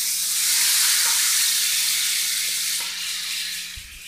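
Beans sizzle steadily in a hot frying pan, a close, continuous hiss of frying with no talking over it.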